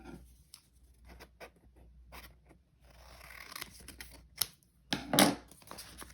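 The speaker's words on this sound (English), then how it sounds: "And then I will probably just cut this in half actually." Scissors snip through a book page to cut it in half for a junk journal card, giving a few dry, crisp cuts near the end after light handling rustle, with no talking.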